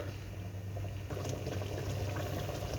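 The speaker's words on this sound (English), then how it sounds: "Let's let this simmer" A lamb dish simmering in a pot, a steady close bubbling and gurgling that swells slightly partway through, with no voices.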